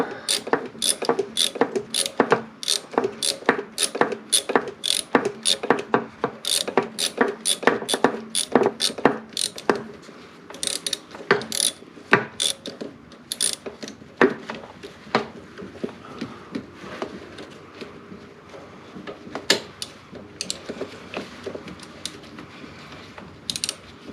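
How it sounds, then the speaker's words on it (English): A palm ratchet fitted with a swivel and long extension clicks as it turns a fastener on a Subaru in freezing weather, with quick rapid bursts of sharp close ratcheting clicks and short pauses between strokes. "I've got a swivel on it, and a palm ratchet."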